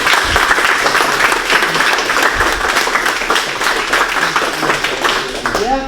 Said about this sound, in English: we'll just give him one more clap